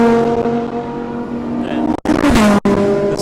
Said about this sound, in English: Here comes the Porsche. Watch him go.